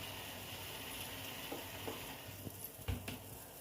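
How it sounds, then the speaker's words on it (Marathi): A pot of water with salt and a spoonful of ghee comes to a boil while rice-flour dough for steamed modak is being prepared. A faint, steady bubbling hiss plays with a few soft clinks. "आता हे आपलं पाणी उकळत आलेलं आहे"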